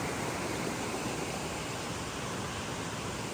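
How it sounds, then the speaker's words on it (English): A small waterfall beneath a trail bridge in DuPont State Forest gives off a steady, even rush of falling water, faint and continuous with no other sounds. "going over this bridge which goes over this little waterfall"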